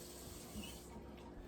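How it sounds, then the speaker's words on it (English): Steady tap water running over a raw chicken leg quarter in a sink, a faint, continuous hiss and splash with no break. "I turn on the water like that, and I'll just get it wet"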